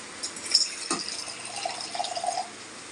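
Water pours and splashes softly in short bursts into a pot of curry noodles, with a faint running trickle at close range.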